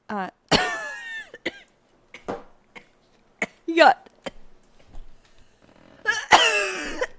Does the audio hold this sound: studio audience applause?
no